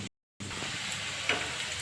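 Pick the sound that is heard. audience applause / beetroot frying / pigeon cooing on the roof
beetroot frying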